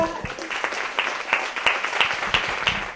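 A small church congregation claps in a brief burst of applause, the hand claps quick and scattered, fairly close, with a few voices murmuring underneath.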